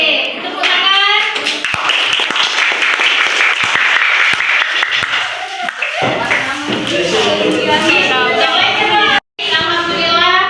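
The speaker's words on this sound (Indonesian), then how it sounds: "Oke, tepuk tangan." Children in a classroom clap together for several seconds at the close of a lesson, a dense patter of small hands, then giving way to overlapping young voices and teacher talk.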